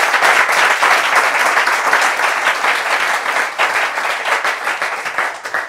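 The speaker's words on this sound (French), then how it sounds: "On applaudit toutes vos interventions." Loud, sustained studio audience applause on a French talk show, a thick continuous roar of many hands clapping at close range with no speech.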